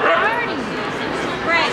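A husky at a pet expo whines and yips in rising, wavering howl-like calls, close and loud amid busy background chatter.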